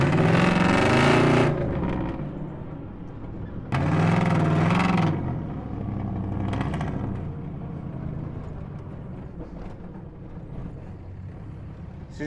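A pickup truck engine running after a pinion shaft replacement, with loud revving bursts that surge and drop back to a steady idle rumble, recorded close by outdoors.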